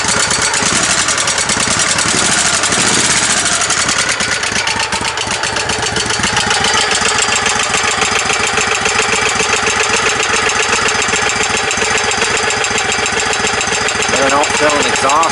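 A tow rig's engine idles steadily and loudly up close, a continuous mechanical rumble with a fast ticking that suggests a valve issue running through it the whole time, without pause.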